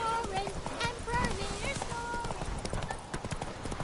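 Horse hooves clip-clopping at a quick, steady pace in the video game The Witcher 3, with a whinny and voices talking over the hoofbeats.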